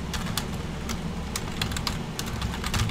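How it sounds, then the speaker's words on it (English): Rapid, uneven keystrokes on a computer keyboard, played up close and continuously for about three seconds over a low, steady background hum, with no voices. "I'm typing."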